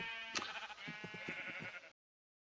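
Sheep bleating inside a sheep-shearing pen built with a trapdoor, one drawn-out bleat running under a series of short rhythmic clicks and knocks, close and moderately loud.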